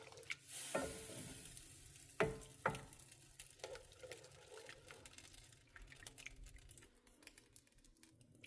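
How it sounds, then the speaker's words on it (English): Water is stirred into a lumpy roux for a chicken dish, giving soft wet scraping and a few sharp utensil knocks against the pan over a faint sizzle, close and quiet. "start combining and mixing in the lumpy roux"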